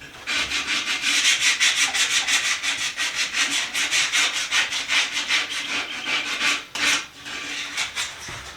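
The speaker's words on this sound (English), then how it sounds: "So I've been hand sanding on this for a little while." Rapid back-and-forth scratching of sandpaper by hand on a mid-century modern wooden coffee table, a steady rhythmic rasp close by with a brief pause near the end.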